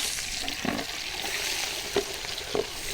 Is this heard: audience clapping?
no